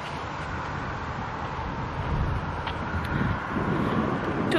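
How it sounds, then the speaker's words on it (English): Wind buffets a microphone outdoors on a bright winter day, a steady broadband rumble that swells slightly louder in the second half with no one speaking. "Now it's windy again."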